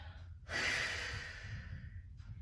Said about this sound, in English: that nice out breath